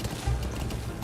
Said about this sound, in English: Look at me, I'm riding a horse!